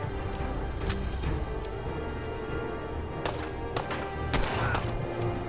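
Gunshots in Fallout 4 on survival difficulty: scattered sharp reports and short bursts, some near and some farther off, spread unevenly across a few seconds of steady game noise.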